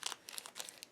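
An LED strip sleeve is bunched up by hand, producing quick, faint crinkling bursts of plastic in rapid succession, close by and without any talking.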